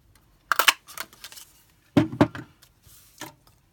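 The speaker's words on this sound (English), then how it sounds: "You want to use the 1 3/8 inch punch to cut that out as a circle." Paper punch snipping a 1 3/8 inch circle out of card stock: a few sharp, close clicks and crunches in quick bursts, separated by quiet pauses, with no talking.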